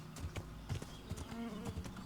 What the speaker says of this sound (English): We can sprint on the horse.